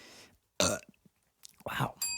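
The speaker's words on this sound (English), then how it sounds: "really full of the burps today" A man burps a couple of times, short close guttural bursts separated by brief pauses, with a voice also heard.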